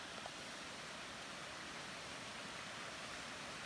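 Steady, soft rush of a creek flowing beside a backcountry campsite in the Great Smoky Mountains, an even wash of water noise with no breaks.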